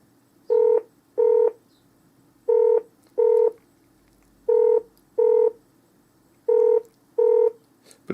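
A UK telephone ringback tone sounds while calling a GP surgery: four evenly spaced double rings, each a pair of short buzzy tones, clear and steady with quiet gaps between and no talking.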